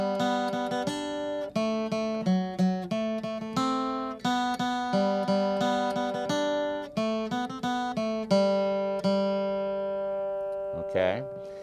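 Bluegrass acoustic guitar playing the folk tune Skip to My Lou, a steady run of crisp picked notes and strums, clear and close, with a final ringing chord and a slight pitch bend at the end.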